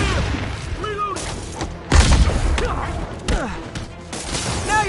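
Video game gunfire booms in loud heavy bursts around the two-second mark amid a dense battle mix of explosions and game voices, with speech layered over the shooting.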